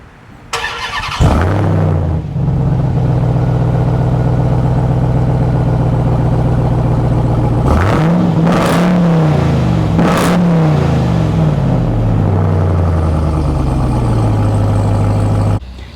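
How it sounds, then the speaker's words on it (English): A 2022 Ram TRX pickup's exhaust starts up and settles into a loud, close idle, then takes a few sharp rev blips around the middle before dropping back to a steady rumble, with no talking. "Let's listen to the exhaust sound really quickly here."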